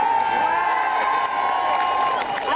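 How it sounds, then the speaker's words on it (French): An audience in Paris cheers and applauds at an anti-bullfighting rally, a steady loud crowd roar with shouting throughout the short burst. "Applaudissez, s'il vous plaît."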